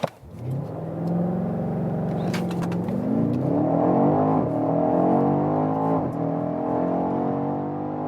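A performance SUV accelerates hard, its engine climbing from a low rumble into a rising, strained roar as the revs build through gears, loud and close with a brief shift dip partway through.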